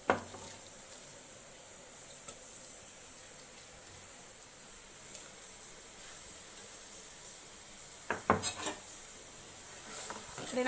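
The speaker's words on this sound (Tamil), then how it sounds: "இப்படி நல்லா கொதிக்குதுங்க." A pot of spinach stem soup with crushed garlic and small onions simmers steadily in a home kitchen, giving a soft continuous hiss and bubbling, with a few brief clinks of a utensil near the end.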